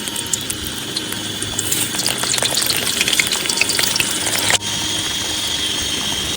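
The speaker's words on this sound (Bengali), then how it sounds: "তেল গরম হয়ে গেছে, প্রথমে আলুগুলো ভেজে নেবো।" Potatoes fry in hot mustard oil in a wok with a loud, dense, continuous sizzle. The hiss shifts to a slightly steadier tone partway through, and no voices are heard.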